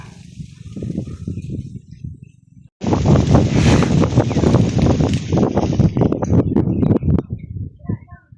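Wind gusting at an eco park: a quieter rumble for the first few seconds, then a sudden strong, roaring blast across the microphone that holds loud for several seconds before fading away near the end.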